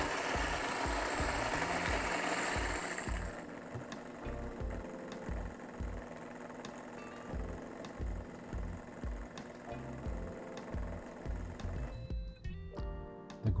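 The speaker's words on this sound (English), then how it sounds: "The grinder finally stopped." A Fellow Ode Brew coffee grinder grinds beans with a steady motor whir and rhythmic pulsing. It runs loudest at first, then settles into an even drone before cutting off near the end.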